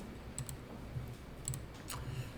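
Quiet clicking keystrokes on a computer keyboard, typed into Notepad during an accounting journal-entry class, come in a few short bursts, faint and close.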